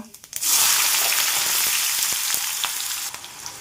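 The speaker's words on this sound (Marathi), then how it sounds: "तेल, मोहरी फुलल्यानंतर जिरे, कांदा" Mustard seeds, cumin and onion hit hot oil in a pan, giving a loud, steady sizzle that starts abruptly after a few light pops and continues evenly, with faint crackles throughout.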